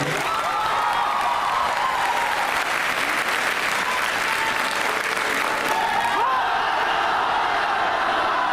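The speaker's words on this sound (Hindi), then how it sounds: "मैं चाहता हूं एक बार अपनी उपस्थिति के लिए एक तालियां बजा लें।" A large audience at a live stage show in Varanasi claps continuously, a thick, loud, even roar of applause with faint whoops lasting the whole stretch.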